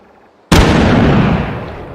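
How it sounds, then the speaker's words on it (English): A grenade detonates in the VR shooter H3VR (Hotdogs, Horseshoes and Hand Grenades): one sudden loud blast after near silence, followed by a long rumbling tail that slowly fades. "if I put a grenade over here, you'll be able to see the explosion before you can hear it"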